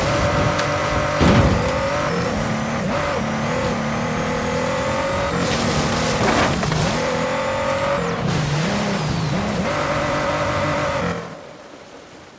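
An F-150 Raptor based truck driven in Forza Horizon 5 in Mexico, its engine droning and revving loudly and steadily with shifting pitch and brief tire noise, fading out at the end.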